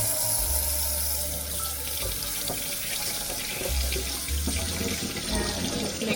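A kitchen tap runs steadily into a sink while a fresh farm egg is rinsed under it, a continuous close splashing hiss with a low hum that comes and goes, and no voices.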